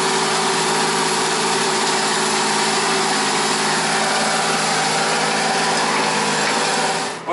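A tractor in eighth gear pulls a Machio deep ripper through dry soil at about 8.5 km/h, giving a loud, constant engine drone with a dense mechanical rumble that holds unbroken before dropping off at the very end.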